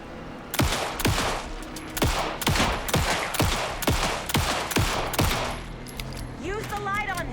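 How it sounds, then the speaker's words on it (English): Rapid volley of gunshots from the video game Alan Wake II, a dozen or so sharp, loud cracks in steady succession, followed by a brief quieter tail with a whining tonal effect. "Anderson, hit him down with gunfire for me to get the light on him."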